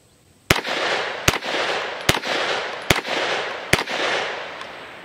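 Five sharp gunshots from a Stribog SP9A3 9mm delayed roller-lock firearm ring out at an outdoor range, spaced about a second apart at a steady pace, each loud crack trailing into a broad echoing wash.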